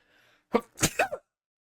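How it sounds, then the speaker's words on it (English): One heavy human sneeze bursts out close and loud after a faint intake of breath, with a sharp explosive release and a short trailing gasp, then silence. "that was a heavy sneeze right there"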